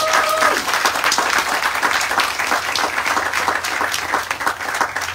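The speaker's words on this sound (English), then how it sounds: "A round of applause for these wonderful folks." An awards-ceremony audience at the Maryland Preservation Awards gives a round of applause, a dense, steady wash of clapping that tapers slightly toward the end.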